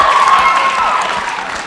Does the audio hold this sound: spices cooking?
no